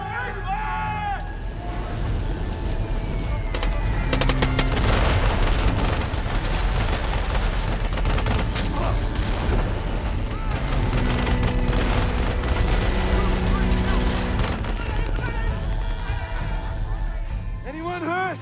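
Dense Vietnam War film battle sound: continuous loud bursts of rifle and machine gun fire overlap in a sustained fusillade, close and relentless, while voices shout beneath the shooting.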